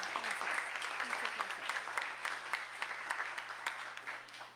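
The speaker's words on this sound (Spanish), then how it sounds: "Recibamos pues su participación con un fuerte aplauso." A panel audience at a university round table gives a speaker a welcome, with sustained, even applause made of many individual claps. It sounds moderately distant and quiet throughout.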